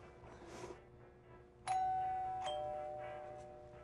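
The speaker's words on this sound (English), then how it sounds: "Now that's a doorbell." A doorbell rings in a TV advert with a single clear electronic chime. It follows faint rustling and then rings on and decays over a few seconds.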